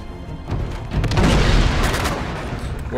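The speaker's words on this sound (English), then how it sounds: "Where am I getting shot at?" Gunfire and booming blasts in the video game Uncharted 2: Among Thieves, a loud continuous barrage of rumbling shots and explosions swelling midway, with no speech.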